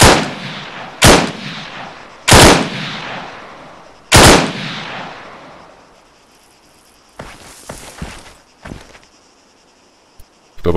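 Rifle gunfire in the video game ARMA III: four sharp, loud shots spaced about a second apart, each trailing a long echoing decay, followed by fainter scattered cracks over a quiet insect-like background.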